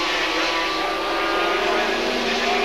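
350cc Grand Prix motorcycles racing at Lakeside Raceway in 1987, a loud, high-pitched engine wail held steady as bikes scream past, with a race commentator talking over it.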